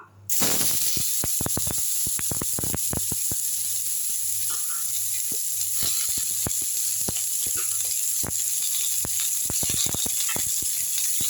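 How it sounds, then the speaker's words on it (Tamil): Ridge gourd peel dropped into hot oil, crackling and sizzling loudly and steadily, with sharp popping bursts scattered throughout; no talking. "அடுத்து அதே எண்ணெயில் இந்த பீர்க்கங்காய் தோலை வந்து போட்டுடலாம்"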